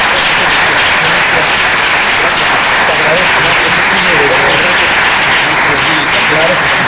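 An audience applauds a minister at an advanced public speaking and debate workshop, a dense, steady wash of clapping that fills the room for several seconds, with a voice faintly audible beneath it.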